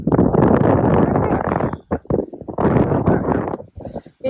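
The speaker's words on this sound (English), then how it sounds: "It's super windy here" Strong wind buffets the microphone at an Oregon Dunes beach, a loud broadband roar that surges in long gusts with brief lulls between them.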